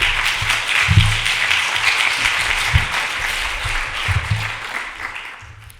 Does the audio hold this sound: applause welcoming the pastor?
yes